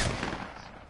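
Gunfire in a video game: a loud, sharp shot bursts at the start, then decays into a rough rumbling tail, with no talk.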